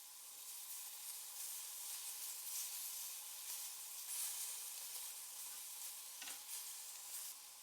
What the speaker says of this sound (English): Place the marinated beef cubes into the pan and allow them to slightly blacken in